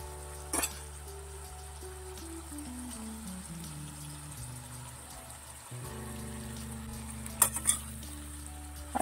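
Eggplant frying in a pan for an aloo baingan dish, a faint steady sizzle with a few soft clinks and stirring taps as the pieces are moved around.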